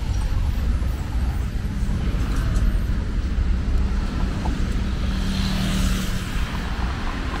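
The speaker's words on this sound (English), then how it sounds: "Mucho tráfico en sábado noches." City traffic on a Saturday evening in San Luis Potosí, Mexico: a continuous low roar of cars and buses on the road, fairly loud and steady with no talking.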